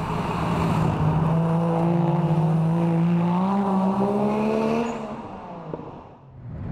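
Nissan R33 GTR with a single turbocharger conversion, its engine pulling hard under acceleration with a strong rising tone that holds loud and steady, then cuts off and fades near the end; no talking.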